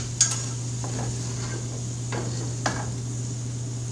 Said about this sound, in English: Saute all that up, mix it all around.